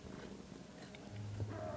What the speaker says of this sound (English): if you hear like a little, like, I guess snoring noise, that's just my cat right next to me